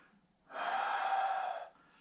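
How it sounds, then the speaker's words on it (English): A deep breath blown out into a fitted respirator mask with a metal nose ridge, heard as a single loud, close, breathy rush lasting about a second, with no talking. "take a deep breath and blow out"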